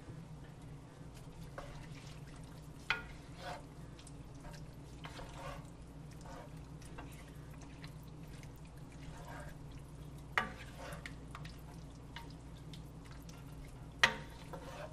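Taco soup with green chilies and a whole can of spices being mixed in a pot: soft, continuous liquid stirring and sloshing with a few sharper utensil clinks, quiet and close.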